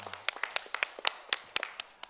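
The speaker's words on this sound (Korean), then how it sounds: "하나님께 영광의 박수 올려드리겠습니다." A church congregation claps in praise to God during a Korean worship service: sparse, separate sharp claps from a few people nearby, unevenly spaced and fairly faint, with no talking.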